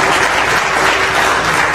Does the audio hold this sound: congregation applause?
yes